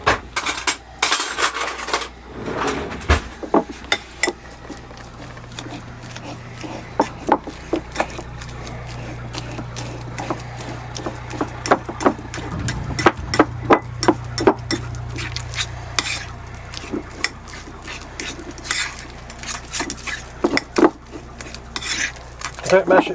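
Bananas being mashed in a bowl for a banana cake in a narrowboat galley: a steady run of close scraping, tapping and clinking strokes, irregular in rhythm, with no talk.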